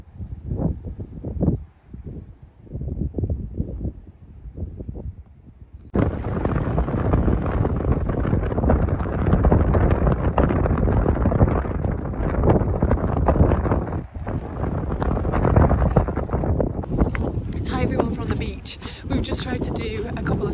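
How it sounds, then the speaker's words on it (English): Strong wind buffets a microphone outdoors at sunset, a loud roaring rumble that starts after a few seconds of quieter sound and persists to the end, with a person talking intermittently underneath. "it's just very windy"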